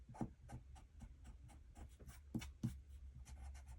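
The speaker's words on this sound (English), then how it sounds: "I just want to erase this little pencil mark." Soft, rhythmic rubbing of an eraser over a small pencil mark on card stock, several quick back-and-forth strokes, faint and close.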